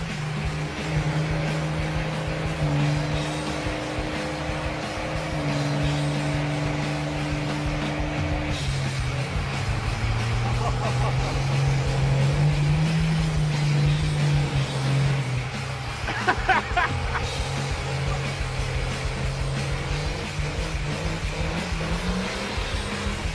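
A diesel-swapped Torino station wagon at a drag race idles and revs in a loud, sustained drone, its pitch shifting partway through, with brief sharp squeals or skids near the end.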